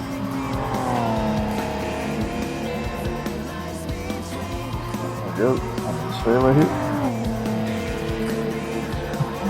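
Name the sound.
GTO Twin Turbo '91 racing, from video game Gran Turismo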